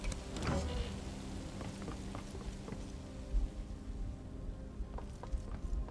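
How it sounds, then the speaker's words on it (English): Steady rain patters across a car park in the stealth strategy game Phantom Doctrine, a soft continuous wash with a few faint clicks and thuds over it. "standing in the rain in a car park"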